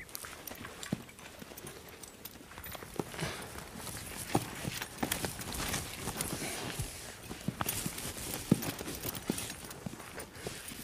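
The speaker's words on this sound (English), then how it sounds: "As a comfort to the young stallion, Brian has corralled several other horses." Several horses' hooves clip-clop in a corral where a young stallion is being handled, a steady scattering of near hoofbeats on the ground with faint background talk.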